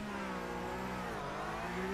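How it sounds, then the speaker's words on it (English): Porsche race car engines revving on the starting grid in the iRacing sim during a Porsche Tag Heuer eSports Supercup race, a steady layered drone of engines with pitch rising gradually, loud and continuous throughout. "Right, revs are building, I'm hearing."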